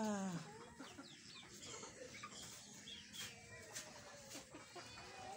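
A crested rooster clucks repeatedly at close range, with other fowl sounds scattered through the farmyard and no talk.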